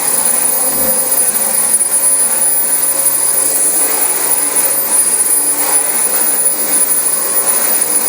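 A six-year-old Dyson DC25 upright vacuum cleaner runs steadily throughout, a loud continuous whine and airflow roar with no talk over it.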